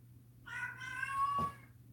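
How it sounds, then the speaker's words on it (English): A single house cat meows one drawn-out, rising and falling cry at close range, set against a low background hum and otherwise quiet. "Do you guys hear my cat?"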